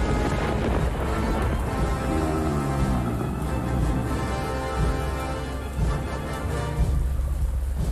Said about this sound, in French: La pluie qui tombe à verse a gâté son odorat.